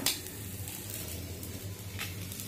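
Catla fish fries in oil with a soft, steady sizzle, fairly quiet, broken by a couple of faint utensil clinks.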